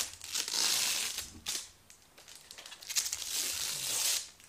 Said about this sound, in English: Let's get that plastic out of there.